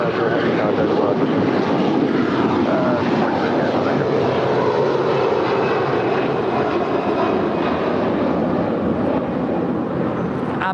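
A 21-year-old Air Canada A330-300 jet in Star Alliance livery taxiing at LAX, a loud, steady engine roar and whine that holds constant throughout.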